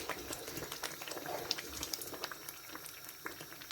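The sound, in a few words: suji halwa boiling and bubbling in pan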